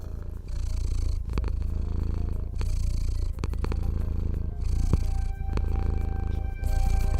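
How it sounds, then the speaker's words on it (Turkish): A steady, continuous low rumbling purr from a cat, close and loud, with a rhythmic breathing pulse running through it and no other sounds. "Kediler zaman zaman mırıldanırlar."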